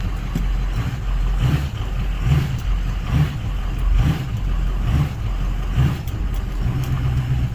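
A 6.0 Powerstroke diesel truck engine on 46-inch tires pulls and accelerates with a steady, loud, close rumble, its pitch swelling in repeated surges as it gains speed.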